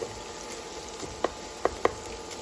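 Steady low sizzle of eggs frying in a pan in a hotel room, with a few faint clicks and taps over the hiss.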